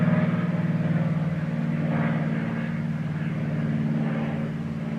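Aircraft engine drone from a plane in flight, a steady, loud, low rumble with a throbbing propeller-like tone that holds evenly throughout with no speech.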